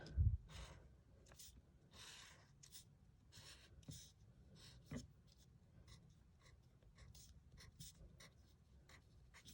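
Felt-tip marker squeaking and scratching across paper while drawing purple stripes on a paper snowman's hat for a craft, with a run of short repeated strokes, close and quiet, no talking.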